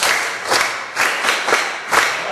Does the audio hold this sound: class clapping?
yes